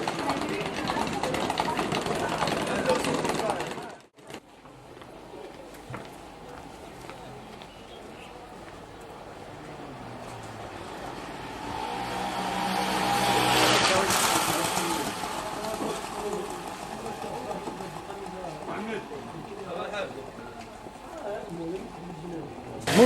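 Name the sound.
motorcycles in a street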